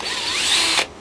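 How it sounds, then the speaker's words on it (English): Power drill boring through a wooden fence post for a feather edge fence, a steady loud whine held close for most of a second before cutting off sharply. "Drilling through the post now"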